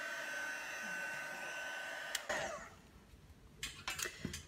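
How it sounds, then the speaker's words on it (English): A heat gun heat-sets embossing powder for an art journal background, giving a steady, fairly quiet airy blowing hiss throughout, interrupted near the end by a few light knocks and handling clicks. "now I'm going to use my heat gun and heat set the embossing powder"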